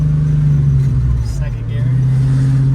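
A 1968 Mustang fitted with a Ford Explorer 5.0 V8 revs in low gear, a loud, steady, close engine drone heard from inside the car with a slight dip partway through.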